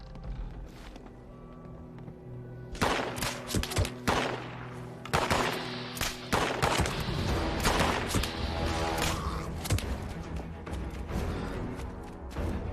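Fallout 76 gunfire aimed at an enemy in the water: rapid bursts of shots after a quieter opening, dense overlapping cracks and rattling volleys continuing to the end.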